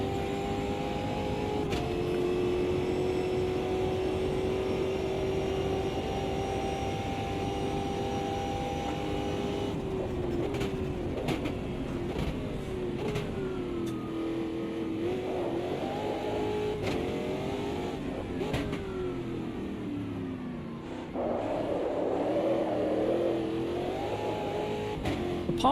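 A Formula Junior race car in Automobilista 2 revs steadily with a buzzing engine note, then climbs and drops through repeated gear changes, loud and continuous throughout.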